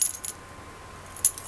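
A carried bunch of keys, including truck and house keys, jangles in two brief metallic bursts at the start and end with quiet between.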